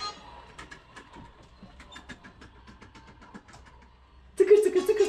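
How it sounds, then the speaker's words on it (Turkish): A train rolls along the tracks toward Ankara station, a steady low rumble with faint rhythmic clatter that swells into a louder, busier burst near the end. "Tren gidiyor."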